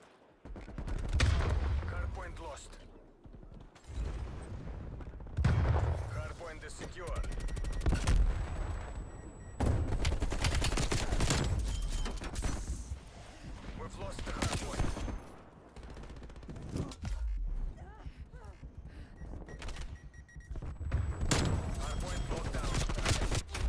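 Video game gunfire in a Hardpoint match: repeated bursts of automatic shots in loud clusters separated by brief pauses, with a player talking over parts of the action.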